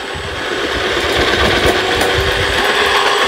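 A food processor slicing vegetables for chips runs loud and close, a continuous buzzing whir with rapid chattering throughout.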